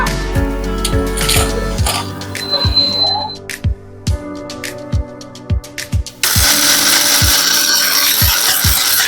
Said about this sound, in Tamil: நம்ம வந்து இப்ப மிக்சியில தான் வந்து அரைக்க போறோம்